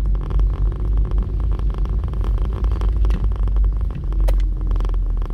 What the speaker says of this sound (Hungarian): mert hallom, hogy itt egyfolytában zörög valami. Telefontartom zörög.